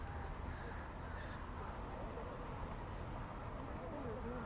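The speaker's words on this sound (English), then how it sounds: "Did you hear that crow out in the courtyard?" A large crow caws outside in a courtyard during an outdoor ceremony, its calls mixed into steady background noise while people talk nearby.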